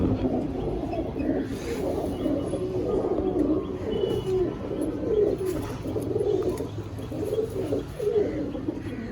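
Kalajiriya pigeons cooing at close range, a continuous low murmur of overlapping throaty coos with soft wing and shuffling sounds in the background.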